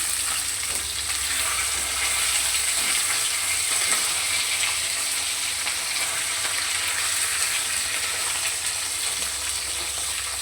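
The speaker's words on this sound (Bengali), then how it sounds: "একটু লাল লাল করে ভেজে তুলে নেব" Small fish fry in hot oil for a Bengali tomato curry, giving a dense, continuous sizzle that stays loud and even from start to finish, with no voices.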